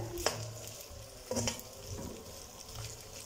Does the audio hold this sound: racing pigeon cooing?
no